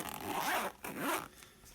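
Two quick, close zips from opening the zipper of a Maxpedition Fatty pocket organiser pouch, each a raspy sweep with a short pause between, then a soft trailing rustle.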